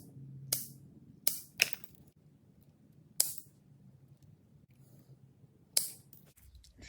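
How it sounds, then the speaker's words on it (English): Cutters snipping through boat trailer wiring, five sharp, crisp clicks spaced irregularly in a quiet room, close and distinct. "since we have plenty of wire, is just go ahead and cut them all off."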